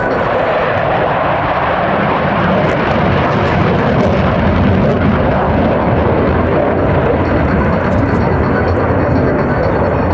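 A jet aircraft roars past at the RAF Cosford airshow, a loud, continuous, broadband engine rumble and hiss that stays powerful and steady throughout.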